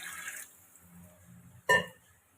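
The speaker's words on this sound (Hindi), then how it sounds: "यहाँ पर मैं डालने लगी हूँ पानी" Water is poured into a cooking pot of chicken for Afghani pulao, heard as a short, close splash after a quiet stretch.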